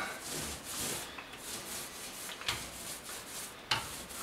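A paint roller spreading a thin coat of paint across the floor of a 1957 Buick Special, giving soft repeated rubbing strokes with brief sticky rasps, close and quiet.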